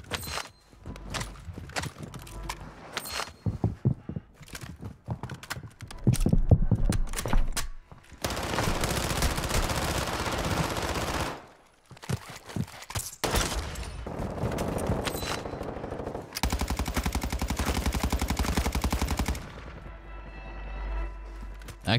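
MP7 gunfire in the shooter game Warzone 2: rapid, close automatic bursts, some long and sustained, separated by short pauses with footsteps and scattered single shots.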